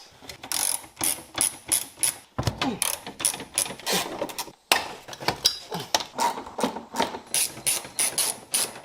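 Rapid ratcheting clicks come in repeated bursts as screws are backed out of the dashboard of a Mazda RX-7 FD3S during interior removal, close and crisp with brief pauses between runs.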